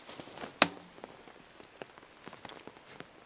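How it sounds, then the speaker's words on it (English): Heavy rain falls on an umbrella in quiet, close patters, with scattered droplet taps and one sharp, loud knock early on, all against a faint background hiss. "the rain is coming down pretty hard right now"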